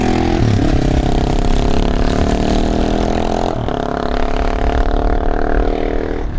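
A Herald Brute 500 motorcycle engine drones loud and steady during a ride, with a brief dip and shift partway through before the even mid-pitched roar resumes.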